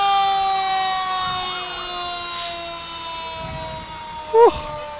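A fire truck rolling in a Fourth of July parade sounds a loud, sustained siren tone, with a couple of short sharp horn or siren blasts near the end and faint crowd noise beneath.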